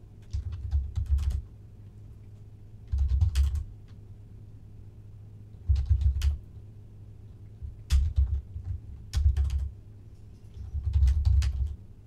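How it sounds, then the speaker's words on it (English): Typing on a computer keyboard comes in short clustered bursts of clicks separated by pauses, fairly close, over a low background hum. "I hate typing."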